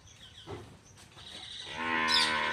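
Buffalo on a farm low and call out in a long, loud moo that swells toward the end. An earlier, fainter call sounds near the start, and no one speaks.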